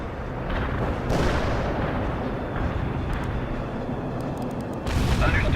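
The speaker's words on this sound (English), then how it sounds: "Artillery firing." Heavy artillery barrage in the World in Conflict video game, a dense, sustained rumble of booming fire that runs the whole stretch, with a fresh loud burst near the end.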